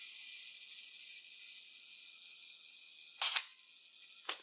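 A Konica C35 AF2, a 1980s point-and-shoot film camera, trips its shutter with a sharp near click burst, then a smaller second click about a second later, over a steady high hiss and no talk.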